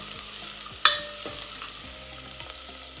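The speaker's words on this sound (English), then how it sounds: "chopped garlic, and just saute for 30 to 40 seconds" Chopped garlic sautés in a hot pan, a soft frying sizzle with a sharp clink of a spoon against the pan and a few quieter stirring scrapes.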